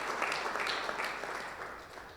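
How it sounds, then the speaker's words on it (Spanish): Applause from a church congregation, a dense wash of clapping that fades slightly over about two seconds, fairly distant. "Le hace aplauso fuerte"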